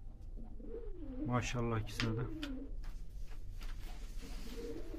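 Breeding pigeons cooing in a loft, a close series of soft, throaty, rolling coos in a short burst, with someone speaking over and after them.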